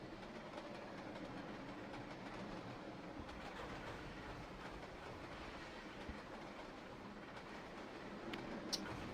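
Train rolling on rails in a train video game, a continuous low rumble with faint rhythmic clicking and occasional brief squeals, steady and without talk.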